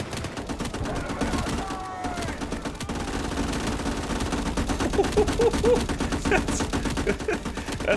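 Rapid bursts of .30 cal machine gun fire crackle in the war video game Gates of Hell, a dense rattling stream of shots, some near and some distant, layered over continuous battle noise.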